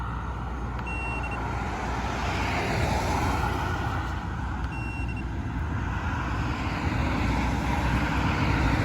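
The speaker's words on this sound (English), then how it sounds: "All right, here comes some more traffic." Road traffic of cars and trucks passes by continuously, a steady broadband roar of tyres and engines at moderate loudness, with faint high electronic beeps showing briefly twice.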